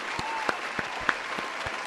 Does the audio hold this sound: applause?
yes